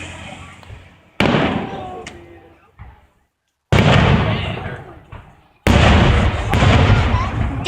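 Loud fireworks bursts at a display, several booming explosions with crackling tails, separated by brief quiet gaps; voices talk faintly beneath.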